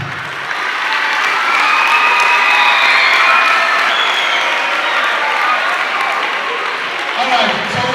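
Sustained applause from an audience in a hall, loud and dense for several seconds with some crowd noise mixed in, tapering slightly toward the end.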